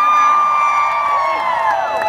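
A large outdoor crowd at Charlotte Pride 2017 cheers and whoops loudly and continuously, with high shouts and screams rising over the din.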